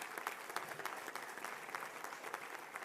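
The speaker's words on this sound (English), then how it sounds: "Let's have a round of applause for all who's present here today to help the graduate attain this accomplishment" A graduation commencement audience claps together in a dense, sustained round of applause, moderately distant and fairly quiet, with no voices standing out.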